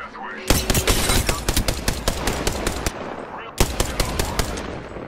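Rapid automatic gunfire in Apex Legends, bursts of sharp close shots in quick succession, a pause, then another burst, loud and dominant with only faint voice underneath.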